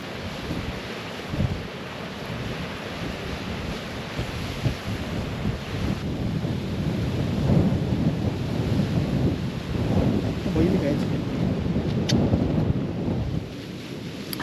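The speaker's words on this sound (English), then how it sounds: "Lashing down the rain, really windy." Heavy rain lashes down and strong wind gusts roar steadily around a wild camp, forming a loud, dense wash of noise that swells slightly midway, with no voices.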